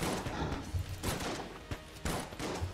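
Several sharp blasts from a shot bow in Enter the Gungeon fire in short bursts with brief gaps between them, loud and close.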